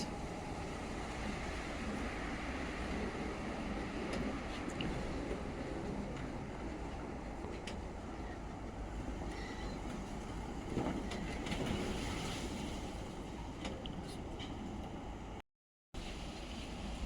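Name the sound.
strong wind during a storm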